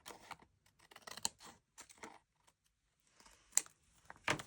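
Scissors trimming a paper pocket for a handmade junk journal, heard close up as a scattered series of short, crisp snips and clicks with brief pauses between them.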